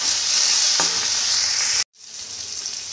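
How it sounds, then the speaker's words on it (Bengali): Chopped tomatoes and salt are stirred in a frying pan, a loud close sizzle with scraping stirs that cuts to brief silence partway, then returns more quietly and builds again. "এবার দেবো পরিমাণ মতো লবণ, দিয়ে ভালো করে নেড়ে নেব।"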